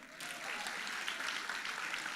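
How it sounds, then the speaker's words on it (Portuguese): A church congregation at an evening seminar applauds steadily, a dense and fairly faint wash of clapping from a large group that continues throughout without pause. "você pode aplaudir o Senhor?"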